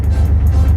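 Truck engine idling with a slight misfire, a steady low rumble with faint uneven pulsing, close and continuous with no talk.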